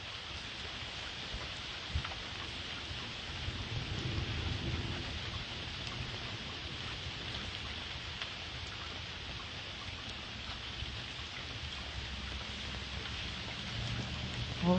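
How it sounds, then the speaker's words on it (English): A thunderstorm hisses with steady, heavy rain on outdoor surfaces, while low thunder rumbles roll faintly underneath now and then. No voices are heard. "try to catch some of the storm because it's really cool"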